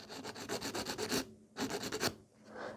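An acrylic nail is filed and smoothed in two bursts of close, rhythmic rasping strokes separated by a brief pause, with no talking.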